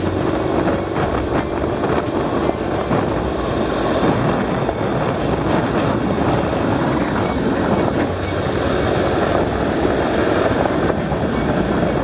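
Street motorcycle with a DCT transmission cruising in a tall gear, giving a steady, continuous low drone mixed with heavy wind rush throughout.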